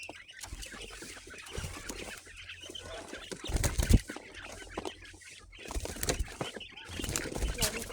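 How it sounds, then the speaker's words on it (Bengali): Baby quail chicks chirping and clucking together with bursts of wing flapping, a busy close chorus of small bird calls with rustling, with a voice talking at times. "এগুলো বাচ্চা কয়েল পাখি"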